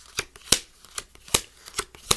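A deck of playing cards is shuffled, producing several quick, crisp riffling bursts at uneven intervals, close up and alone.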